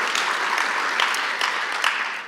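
Brief, dense audience applause for a robotics team, steady and fairly close, with a few sharper claps standing out.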